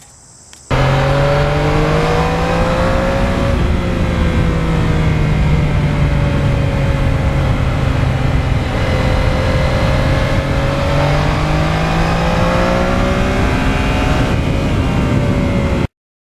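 A 2020 Yamaha MT-09 motorcycle is ridden in rain mode, its engine droning loudly and continuously with gently rising and falling pitch as it accelerates and eases off.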